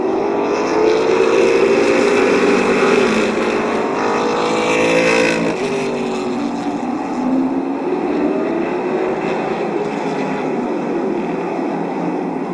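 Late model race cars running a heat at Midvale Speedway, a dense continuous roar of engines with a brief louder surge as the pack passes, distant crowd-like wash underneath.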